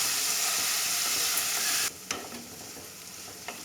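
Onions sautéing in a pan for a brinjal gravy, a loud steady sizzle for the first half that drops to a quieter fry with occasional stirring clinks and scrapes; no talking.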